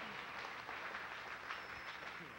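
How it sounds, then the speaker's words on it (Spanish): An audience applauds at a live performance by a Puerto Rican trio: a faint, steady wash of clapping lasts about two seconds, mixed with crowd voices. "venga un aplauso bien fuerte para saber que están ahí"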